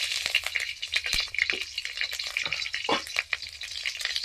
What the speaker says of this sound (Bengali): বেগুনটা ভাজবো